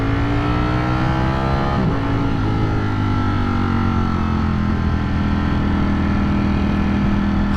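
A Ducati Streetfighter V4S motorcycle engine revs hard under acceleration, a loud, sustained howl with rising harmonic pitch and a brief quick-shift dip before it climbs again, continuous and close with no talk.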